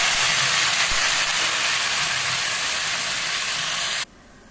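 A pot of tomato-based curry with chilli, salt and oil, cooked without onion, boils on a stove, giving a steady, loud broadband hiss and bubbling that runs continuously, then drops abruptly to a much quieter background near the end.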